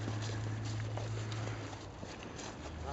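Working horses walk during a draft-animal traction training session, their hooves clip-clopping faintly and steadily. The hoofbeats sit under a constant low hum and outdoor noise.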